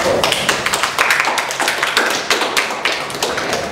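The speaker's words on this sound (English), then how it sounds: "Round of applause." A debate-training audience applauds for nearly four seconds, a steady dense patter of claps with a few sharper taps and no talk.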